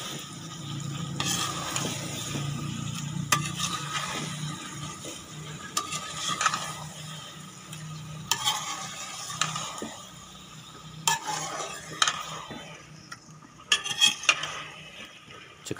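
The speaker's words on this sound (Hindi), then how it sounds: "अब इसको मिक्स कर लें।" A spoon stirs beetroot and cauliflower sabzi in a pan, with repeated scraping and clinks of utensil on metal over a soft sizzle, close and irregular.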